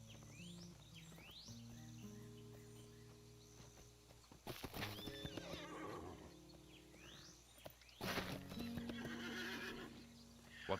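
Horses in The Lord of the Rings Online, in the land of Rohan, whinny loudly in two bursts over steady clip-clopping hooves, with a musical game soundtrack and ambient insect chirps running throughout.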